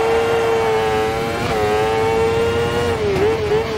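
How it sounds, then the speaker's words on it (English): A crosskart engine from a racing game mod, with a buzzy, motorbike-like tone, holds a steady high drone and revs up and down slightly twice, loud and close throughout with no talking. "the sounds, I did tweak them a bit. This does give me that motorbike engine vibe."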